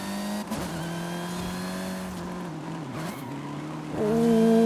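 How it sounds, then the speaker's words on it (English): A supercharged car in the Forza Horizon racing game drones with a steady engine note and a high supercharger whine, rising sharply and louder in the final second as the revs climb. "You're hearing that whine. This must be supercharger driven."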